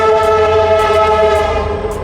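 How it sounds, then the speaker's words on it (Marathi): A train rumbles loudly and steadily alongside, a constant roaring drone with a sustained tonal hum layered over the low rumble and no speech. "ट्रेनचाच आवाज एवढा की काय बोलूच नाही शकत"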